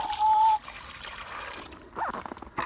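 Warm water trickles and splashes as it is poured into an animal tub outdoors on a freezing day after the ice is broken out, a close, steady pour with a few louder splashes.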